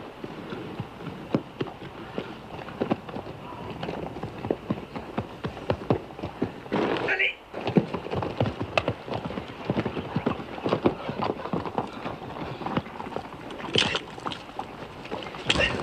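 Horses' hooves clip-clop busily and irregularly in a Western film scene, a dense near clatter lasting throughout, with a brief whinny-like cry partway through and no speech.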